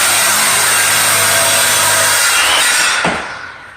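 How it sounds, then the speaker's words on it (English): A saw cuts into the rocks of a stone wall during house renovation, giving a loud, continuous gritty grinding that runs near and steady for about three seconds, then winds down and fades. "Cut that shit with a fucking saw."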